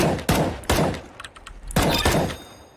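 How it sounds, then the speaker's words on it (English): AK rifle fire during recoil practice in the video game CSGO comes as four sharp, booming shots spaced roughly half a second apart, loud and close with no talk. "So take your AK, Galil, M4, practice your recoil"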